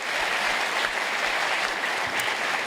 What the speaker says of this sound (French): On peut les applaudir s'il vous plaît pour leurs belles anecdotes.